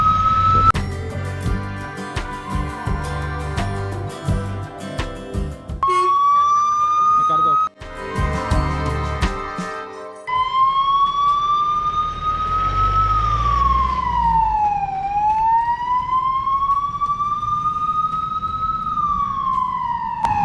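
A loud wailing ambulance siren rises and falls in long sweeps, close by on a village road, with engine rumble and a brief break partway through.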